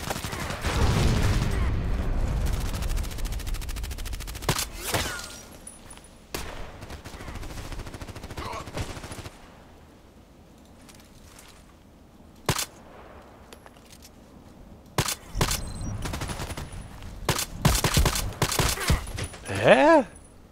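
EBR marksman rifle fire in a video game: sharp, loud single shots in irregular bursts, several spaced apart and a quick cluster near the end, with quieter stretches of game ambience between.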